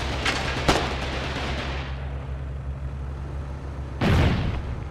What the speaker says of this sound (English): HMGs and mortars.